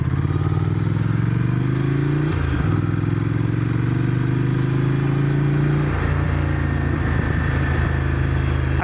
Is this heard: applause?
no